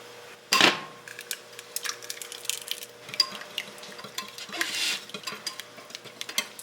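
An egg whisked in a bowl, a sharp clink at the start followed by quick, irregular scraping and tapping strokes, close and fairly quiet, no talking.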